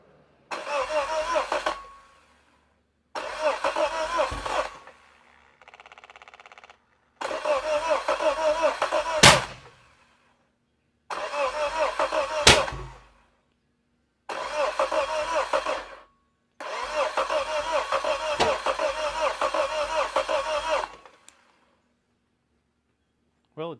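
A Suzuki 150 outboard engine, misted with fogging oil and given no fuel, cranks over in six loud, even starter bursts of a few seconds each, separated by short pauses, without catching.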